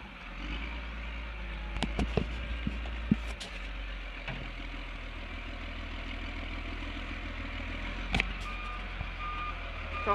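A tow truck sounds repeated reversing beeps while lifting a crashed car with an exploded airbag, its engine idling steadily underneath and a few metallic clanks breaking in.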